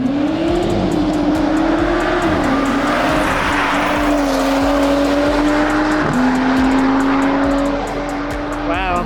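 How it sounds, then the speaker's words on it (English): A Toyota Supra race car climbs at the Pikes Peak hill climb, its engine loud and close with a droning pitch that rises, drops at the shifts and holds steady, while a person talks over it. "We got Laura coming up, another female driver in a Supra."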